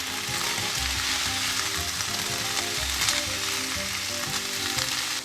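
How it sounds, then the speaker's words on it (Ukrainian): Vegetables fry with a bright, continuous sizzle in a pan as they are stirred, with occasional soft scrapes and no talking. "Не забудьте помішувати овочі."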